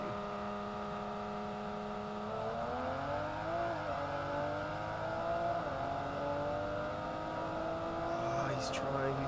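A Toyota Supra and a Lamborghini street racing roar past with rising, sustained engine whine and revving that climbs through gears, heard at moderate distance under steady background noise.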